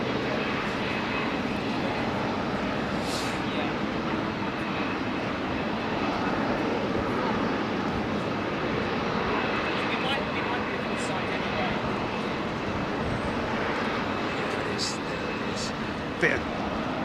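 Emirates Airbus A380 jet engines at Heathrow make a broad, sustained roar that stays steady and fairly loud throughout, with faint higher whines and small shifts riding on the continuous rumble.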